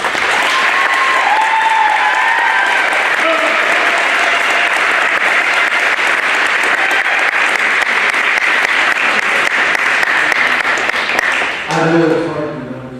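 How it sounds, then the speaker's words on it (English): An audience applauds an outstanding NJROTC leader at a Sterling High change of command ceremony, sustained loud clapping filling the room before fading, with a voice coming in at the end. "Please give this outstanding leader your heartiest round of applause."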